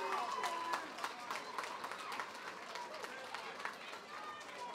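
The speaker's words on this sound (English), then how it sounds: "please give both these warriors a huge round of applause" A crowd at a UKFC mixed martial arts event applauds both fighters after a three-round bout, producing dense, sustained clapping with some cheering, while an announcer speaks over it.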